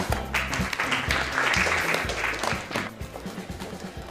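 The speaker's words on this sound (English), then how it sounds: "Round of applause, everyone." A school audience gives a round of applause, steady clapping from many hands that fades toward the end, with a low musical tone sounding underneath.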